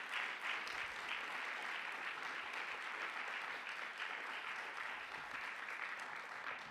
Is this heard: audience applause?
yes